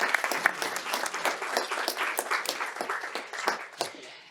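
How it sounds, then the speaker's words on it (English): An audience claps steadily for several seconds, a dense patter of many hands at moderate distance with no talking. "Can we have a round of applause?"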